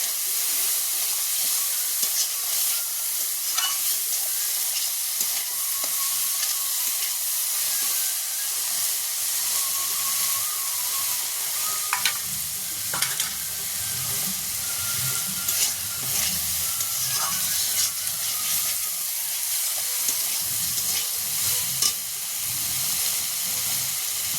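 Chopped taro being stirred as it fries in a pan, a continuous hissing sizzle with steamy spray and intermittent scraping clicks of the spoon, close and steady with no voices.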